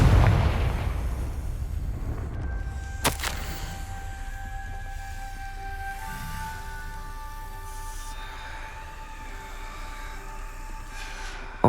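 A Confringo blasting spell goes off in the Hogwarts Legacy video game, a sharp loud crack near three seconds followed by a rumbling blast and sustained magical ringing tones that linger and shimmer under the game's ambient noise.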